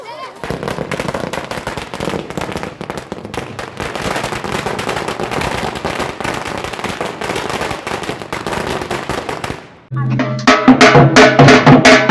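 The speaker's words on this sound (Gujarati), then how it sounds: "સુનિતા સહિત અન્ય અવકાશ યાત્રીઓના સલામત લેન્ડિંગ બાદ ગામમાં ફટાકડા ફોડી આનંદ વ્યક્ત કરવામાં આવ્યો હતો" Firecrackers crackle in a dense, rapid string of sharp pops during a village celebration in Julasan, Kadi taluka, loud and continuous, followed by a brighter burst with festive sounds near the end.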